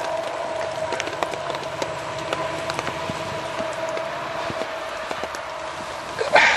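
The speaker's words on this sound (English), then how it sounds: "There's the old train going." A train passes in the distance during a cold night of heavy rain at a tarp camp, giving a faint, steady rumble with scattered clicks under the rain noise, and a louder knock near the end.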